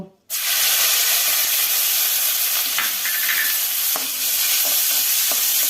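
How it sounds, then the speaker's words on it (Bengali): Chopped onion dropped into hot oil already holding dried red chilli, bay leaf and cumin, bursting into a loud, continuous, close sizzle and hiss with occasional faint stirring knocks. "লাল করে ভাজা হয়ে গেছে, এবার আমি পেঁয়াজ কুচিটা দিয়ে দিব।"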